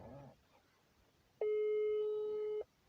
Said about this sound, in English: you need to pick this phone